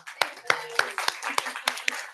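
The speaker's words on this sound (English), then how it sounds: "I think I need to, stand up and applaud you" Clapping for a speaker at a UX healthcare design event in London, heard as a short run of separate, fairly loud hand claps in an irregular rhythm with brief gaps between them, with no voices.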